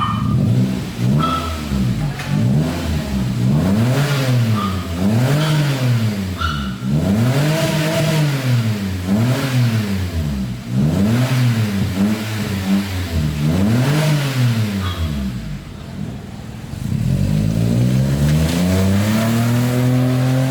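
A Toyota Wigo with a cutback exhaust revs repeatedly, about seven quick rising and falling sweeps in a steady rhythm. It then pauses briefly and finishes with a longer climb, loud and close throughout.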